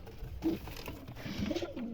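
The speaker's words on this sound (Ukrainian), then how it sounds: "Ось такі то в мене голублята." Young pigeons cooing at close range, soft low throaty coos repeated a few times over a murmuring background, with no talking.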